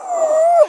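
A dog reacting to a cat gives a single short, close, high whining howl that holds steady, then rises and bends away at the end.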